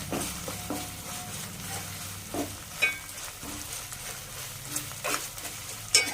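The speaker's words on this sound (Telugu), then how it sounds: "దాంట్లో పచ్చి వాసన పోయేటట్టు శుభ్రంగా వేపుకోవాలి" Ginger paste frying in oil for a fish curry gives a steady low sizzle, broken by occasional soft scrapes and knocks of a stirring spoon against the pan, fairly quiet and close.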